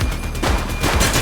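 Gunfire in the police game The Precinct: a short burst of loud, dense shots crackling together in a rapid volley, close and harsh.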